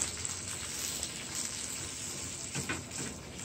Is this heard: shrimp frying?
yes